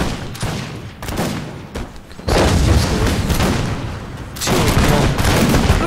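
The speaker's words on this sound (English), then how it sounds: "The cannons are actually firing at him down there" Massed cannon fire booms through an Empire: Total War battle as Poland and Lithuania fight, heavy overlapping blasts and rumbling volleys that swell and surge loudly, near and dense, with no voices.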